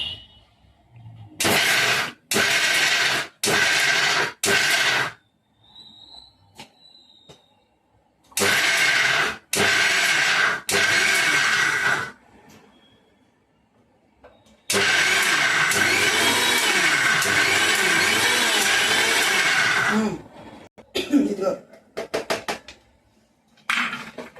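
Kitchen mixer grinder pulsing through cowpeas, onions and cumin for Rayalaseema-style vada batter: several short loud whirring bursts, then one long continuous grind, with quiet gaps and clatter between.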